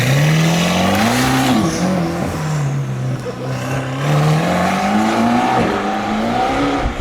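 A powerful performance car engine, not a V8, revs loudly and continuously with rising and falling pitch sweeps through the gears, close and dominant with no talking.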